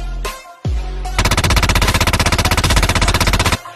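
A loud, close burst of rapid automatic gunfire lasts over two seconds at an even rhythm. A couple of single sharp shots come just before it.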